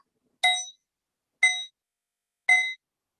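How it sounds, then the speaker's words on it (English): Three clear, bright bell-like dings ring out one at a time at steady intervals, each decaying quickly into silence. "The bell ringing is a Dharma. The sound of the bell ringing is the Dharma."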